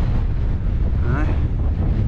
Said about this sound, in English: That's windy as hell up here.